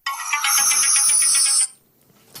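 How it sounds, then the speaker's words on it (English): A phone ringtone plays as a bright electronic melody, a quick run of pulsing high notes lasting about a second and a half and then cutting off, followed by a brief faint click. "I'd like to exclusively reveal what my current ringtone is on my phone"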